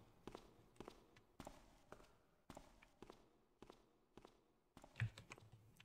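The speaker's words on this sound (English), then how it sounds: "No, it's the lady footsteps." A woman's footsteps in the stealth game Thief, in the Cardinals' Sins fan mission: a run of soft, fairly quiet steps spaced at an uneven walking pace, with a slightly firmer footfall near the end.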